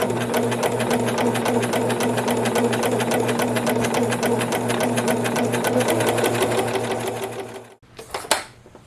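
A Brother 925D lock serger sewing machine runs steadily and loudly at close range with a fast, even mechanical whir, then stops abruptly near the end, leaving a brief clatter.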